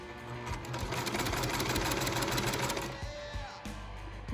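A home sewing machine stitching elastic onto a fabric face mask whirs steadily in a close, continuous run, slows briefly, then starts again for a short back stitch.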